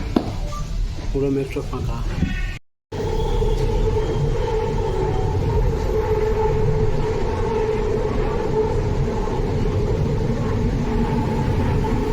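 A Bangalore metro train runs along with a steady low rumble and a droning tonal hum inside a nearly empty carriage, broken by a short silent gap early on, with a voice talking briefly at the start.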